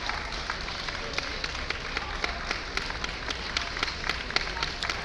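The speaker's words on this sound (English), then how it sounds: "Lots of people applauding." A crowd applauds steadily at a 2017 Flushing Spaniel show for a senior junior-handlers class with handlers aged 15 to under 18, a dense, even patter of many hands clapping at moderate distance throughout.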